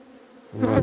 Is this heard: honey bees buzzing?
yes